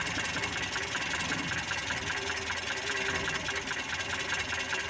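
Colt T120 engine idling steadily after a distributor (delco) timing adjustment, a continuous close mechanical hum with a faint regular ticking throughout and no talking.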